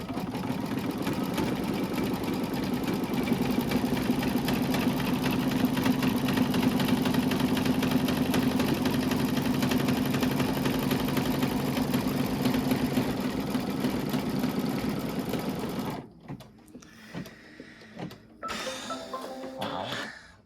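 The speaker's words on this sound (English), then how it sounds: "I'm going to stitch here." An embroidery sewing machine stitches an oven mitt in a hoop. It gives a steady fast mechanical whir and rapid needle chatter for about sixteen seconds, then stops, and a few quieter handling clicks and rustles follow.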